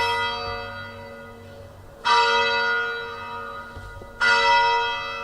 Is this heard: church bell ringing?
yes